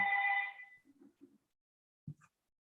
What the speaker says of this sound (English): I think it's a bloody phone